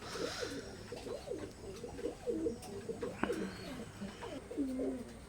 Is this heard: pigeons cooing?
yes